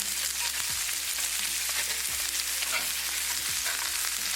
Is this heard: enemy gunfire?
no